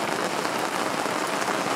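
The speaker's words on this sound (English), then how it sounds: "you have to get used to waking up sometimes to just the sound of huge rain and thunderstorms exploding all around you" Heavy rain drums steadily on a sailboat at anchor, a dense, loud, unbroken wash of drops with no voices.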